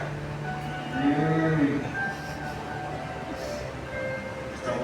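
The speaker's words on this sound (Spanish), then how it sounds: "¿Y cómo es que oigo mugidos de vaca?" Low, drawn-out lowing of farm cattle, a single cow moo swelling near the middle over a steady rural background.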